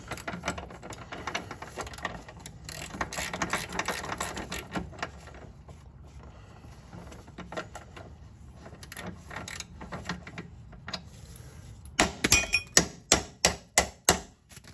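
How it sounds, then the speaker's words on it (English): A hand ratchet spins a bolt onto a front sway bar bushing of a 2010-13 Mazda3, quiet clicking and metal handling giving way to a run of sharp, rhythmic ratchet clicks near the end. "I'm just using a ratchet to run this up."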